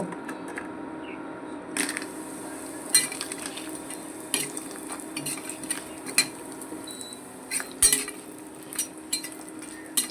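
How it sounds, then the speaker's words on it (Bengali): Bori lentil dumplings frying in a pan, a quiet background sizzle with scattered clinks and scrapes of a spoon or spatula against the pan at irregular intervals, no talking. "এখন বড়ি দিব, বড়ি ভেজে নেব"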